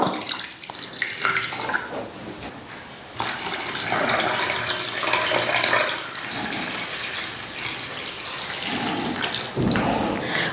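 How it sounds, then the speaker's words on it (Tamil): Water pours and splashes steadily into a bowl of wheat flour, with a sharp surge partway through and a gurgling, rushing flow throughout. "இப்போ இந்த மாவு வந்து முழுகிற அளவுக்கு நம்ம தண்ணி ஊற்றிக்கலாம்"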